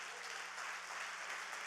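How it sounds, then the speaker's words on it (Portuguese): Soft, steady applause from a church congregation, a distant even patter of many hands with no distinct individual claps. "você pode aplaudir o Senhor por isso"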